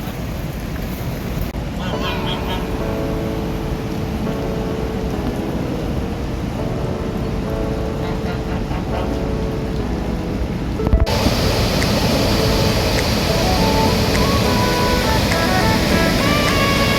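Niagara Falls waterfall near Podgorica, Montenegro, roaring as a constant broadband rush of falling water, loud and unbroken throughout, with faint voices and some tonal sounds layered over it in the first part.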